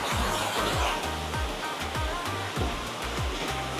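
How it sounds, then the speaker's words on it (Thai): Waterfall at Back Forest Cafe in Pattaya pours in a steady, dense broadband rush with no break, heard alone without voices. "น้ำตกแบ็กฟอร์เรส"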